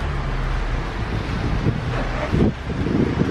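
Wind buffeting a microphone outdoors on a street in Lille, a constant low rumbling roar with gusty swells and no voices.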